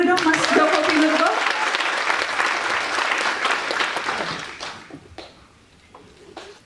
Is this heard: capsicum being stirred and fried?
no